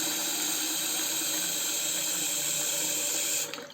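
Cold tap water runs steadily into a shaving bowl with a broad, even hiss before cutting off abruptly at the end.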